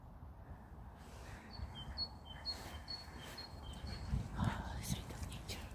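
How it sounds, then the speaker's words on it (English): Small bird calling near a dog walk outside Glasgow, repeated thin high chirps spaced a second or so apart, faint over soft outdoor rumble and footsteps, with quiet whispered talk. "There's that nice bird again."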